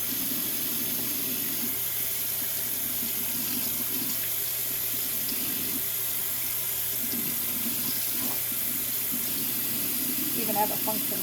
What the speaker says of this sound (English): I guess I'll rinse the both of them first.